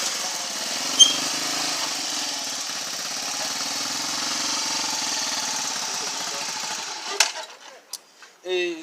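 A motorcycle engine drones steadily at a constant speed with a light, buzzy tone, broken near the end by a few sharp clicks and knocks.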